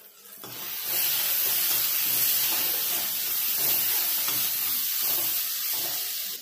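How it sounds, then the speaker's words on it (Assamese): Water poured into a hot pan of bhindi aloo masala with salt and red chili powder, giving a steady loud sizzling hiss that rises after the first second and holds alone to the end. "এতিয়া ইয়াত অলপ পানী দি দিওঁ।"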